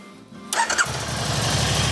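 A Can-Am Spyder RT motorcycle engine cranks and catches with a quick starter whir, then settles into a steady low idle rumble, close and moderately loud.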